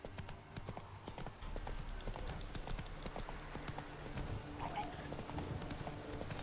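Hooves of the horse Roach in the game Witcher 3, a quick steady clip-clop gallop running throughout at moderate level over faint background game sound.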